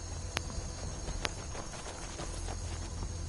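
Horse hooves clop in Skyrim near a farmhouse stable, a few sharp knocks standing out over a steady, dense background wash.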